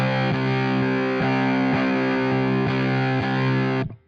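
Electric guitar through a Dewil fuzz pedal with its noise gate switched off gives a thick, sustained, saturated chord, lightly re-struck several times before cutting off abruptly near the end.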